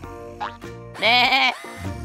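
Sheep bleating in a video game, two wavering bleats, the second louder and longer, standing out close and clear over a steady game background.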